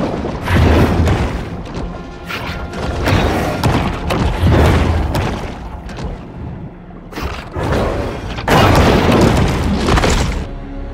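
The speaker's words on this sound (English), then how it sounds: "Young bull shark after a fresh kill exploding into meat chunks" A young bull shark bursting into meat chunks in the Maneater video game: repeated heavy wet booms and crunching thuds in loud bursts, separated by short calmer gaps.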